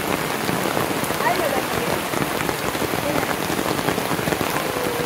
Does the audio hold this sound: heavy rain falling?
yes